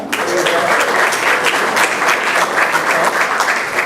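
An audience at a school board business meeting applauds steadily, with many overlapping hand claps forming a continuous, fairly loud roar that keeps an even pitch throughout.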